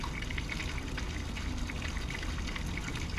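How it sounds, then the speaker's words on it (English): Water from a RainPoint smart garden watering system pours steadily into a pool, a continuous close splashing trickle with no pauses or voices. "you should be able to hear the water stop in the background going into the pool"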